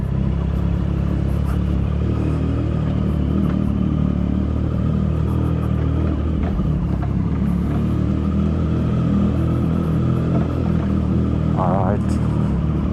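A Triumph Street Triple 675 motorcycle rides through a foggy, freezing Delhi winter morning, its engine a constant low rumble under wind and road noise, with someone talking over it.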